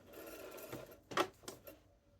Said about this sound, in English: I'm going to do the rest of the top stitching on the collar